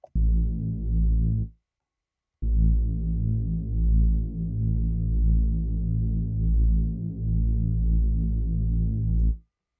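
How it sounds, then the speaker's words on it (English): Deep, wide synth hoof bass in a music production setting, playing sustained throbbing low notes with a short gap after the first phrase, loud and alone. "So we've got a hoof bass here."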